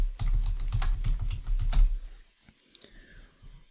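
Fast, close typing on a computer keyboard, a dense run of clicks that thins out and stops toward the end, with no voice over it.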